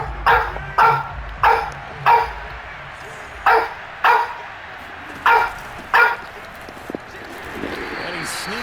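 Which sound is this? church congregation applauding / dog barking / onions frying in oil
dog barking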